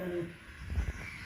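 A crow caws close by, a few harsh calls mixed with low rustling and handling noise while a person is near.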